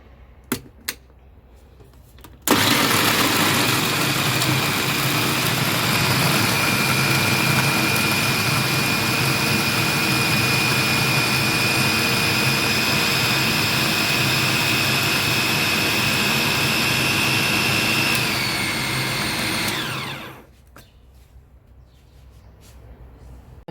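A food processor whirs at full speed for about eighteen seconds, blending a tarhana mixture, with a loud steady motor drone and high whine that start abruptly and spin down near the end.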